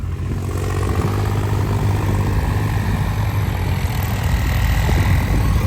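Many tractors run together in a village field near Amritsar, their diesel engines merging into a loud, steady, close rumble that holds constant throughout with no voices.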